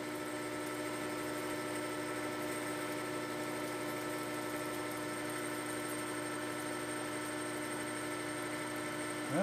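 Metal being cut on a machine at high RPM with a 50 thousandths depth of cut, a continuous tonal whine and hum holding steady throughout, moderately loud with no talk.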